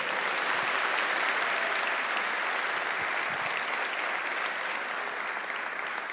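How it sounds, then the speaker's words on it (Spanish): Loud, sustained applause fills a church congress hall, a dense wash of clapping from a large congregation that holds steady for several seconds and tapers only slightly. "Denle un fuerte aplauso"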